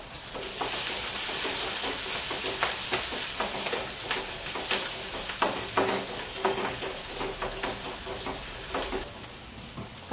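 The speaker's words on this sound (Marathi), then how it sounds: "कांदा आणि मिरची घालते तेलामध्ये. चांगलं भाजून घ्यायचं." Onion and green chili frying in hot oil in a home kitchen, a steady sizzle with scattered crackles and pops running throughout the clip, with no one talking.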